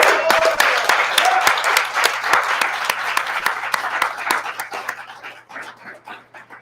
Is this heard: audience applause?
yes